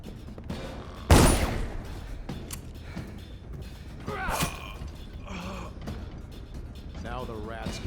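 A gunshot in Dishonored: one loud, sharp crack stands out early over a murky game backdrop of creaks and groans, with scattered fainter clanks afterward.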